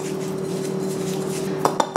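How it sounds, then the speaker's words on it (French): A utensil stirs za'atar into olive oil on a plate, with soft scraping and then a few sharp clinks against the dish near the end. "je vais juste mélanger un petit peu de za'atar dans une assiette avec de l'huile d'olive"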